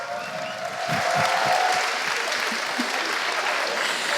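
Sustained applause from a forum audience greets a marine-ecology guest at an ocean round table, broad and even clapping with a few sharper close claps early on and a faint voice underneath.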